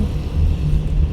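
During a driving lesson, a car engine holds a steady, loud low rumble for about a second as the vehicle moves.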